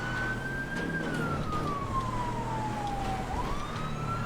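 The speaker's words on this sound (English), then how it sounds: "Just keep the siren on." A police car siren in GTA V wails in a slow rising and falling sweep, loud and steady over a constant low engine rumble, with no talk.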